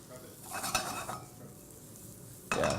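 Food stirring and sizzling in a pan on the stove, a close soft crackle with scraping stir bursts and a louder clatter at the end.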